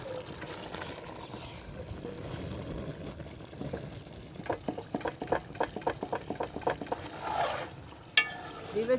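Green chillies dropped into a chicken karahi and frying over high heat, a soft sizzle with a quick run of clattering stirs and scrapes from a spoon against the pan, fairly close and quiet.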